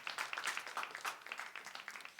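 A small audience at a church gathering claps briefly in a quiet, rapid patter of hand claps, fairly faint and without voices.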